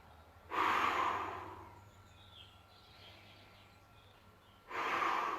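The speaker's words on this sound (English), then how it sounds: "When you're ready, breath in" Deep breaths during a mat Pilates hamstring and glute stretch: a long, loud, airy inhale near the start, a quiet pause, then another strong breath at the end, close to the listener.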